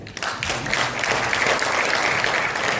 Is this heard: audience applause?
yes